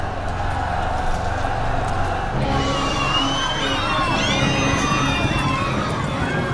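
A large crowd roars and cheers as a barbarian general is felled in a dramatized ancient Roman scene, the shouting swelling loudly and continuing with excited individual cries rising above the mass of voices.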